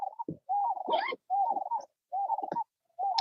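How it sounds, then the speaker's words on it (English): A pigeon or dove coos outdoors beside water during a fishing trip, repeating a low, hollow call in about five evenly spaced phrases, clear and fairly close against near silence. "The birds and everything."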